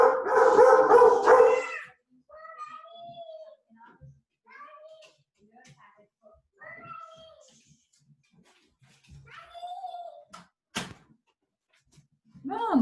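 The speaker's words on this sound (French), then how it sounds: "Viens ici, bon chien." A dog barks and yips in a burst at the start, loud and close, then several drawn-out whining howls follow intermittently, with a voice and brief talk mixed in around them in a home.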